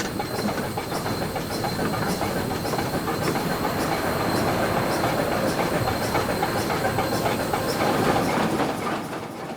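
Achensee Railway train rolling downhill toward Achensee Lake in Tirol on a gradient of up to 25 per thousand, a continuous close rumble with faint rhythmic rail clicks and a thin hiss throughout.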